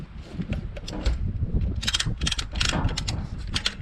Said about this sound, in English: I don't think I have to show many of you how to install a ratchet strap